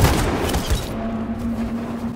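Dense gunfire volleys from a firefight in the video game Detroit: Become Human, with loud crackling bursts over a rumbling low boom, then a steady tonal hum holding beneath the continuing shots.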